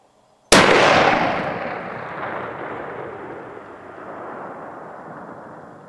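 A single sharp blast from a .338 Edge long-range rifle fired at a target 2,751 yards away, the loud crack followed by a long rolling echo that slowly fades across open ground.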